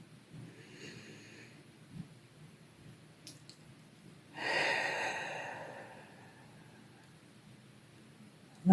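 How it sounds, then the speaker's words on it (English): A single deep inhalation during a guided meditation, a soft airy breath rising and lasting about two seconds before fading, set against quiet room tone with no talking. "Another deep breath in."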